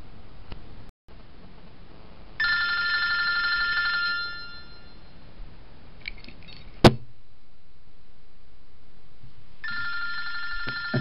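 A telephone rings during a live radio broadcast, two bursts of electronic bell trilling with a sharp click as the receiver is picked up, over a low background hum and no speech.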